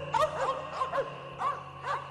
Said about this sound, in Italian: quando i suoi 2 cani iniziano ad agitarsi e ad abbaiare